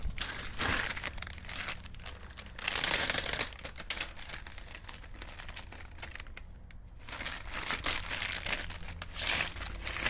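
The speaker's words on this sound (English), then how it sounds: "Let me get this out of the bag." A part for a 1969 Camaro being pulled from a plastic bag, crinkling and rustling in close, uneven bursts, with a brief quiet moment partway through.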